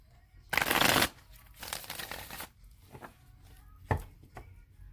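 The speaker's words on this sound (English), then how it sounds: "I'm going to shuffle it 3 more times" A deck of tarot cards is shuffled close by: a dense riffle burst, then a longer softer shuffle, followed by a few light taps as the cards settle.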